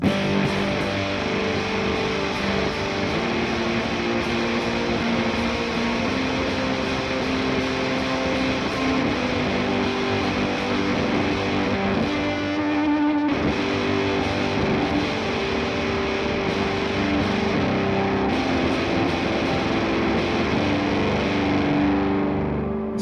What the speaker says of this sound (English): So now I've added a Boss space echo and a shimmer reverb in my quad cortex